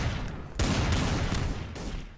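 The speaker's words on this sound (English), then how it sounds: "See, they're shooting down there." Sustained gunfire in a shooter video game, a dense continuous burst of shots that pauses briefly and then resumes, loud and close.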